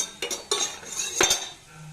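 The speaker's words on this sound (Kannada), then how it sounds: "ಈಗ ಒಲೆ ಮೇಲೆ ಪಾತ್ರೆ ಇಟ್ಕೊಂಡಿದ್ದೀನಿ" A cooking vessel goes onto a kitchen stove with a few close metallic clanks and knocks in quick succession, then settles into quiet with a low hum.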